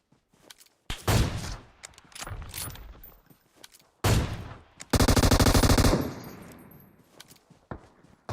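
Loud automatic gunfire in the mobile battle-royale game PUBG Mobile: short sharp bursts and single shots, then a long continuous rapid burst, separated by quieter gaps with clicking weapon mechanisms.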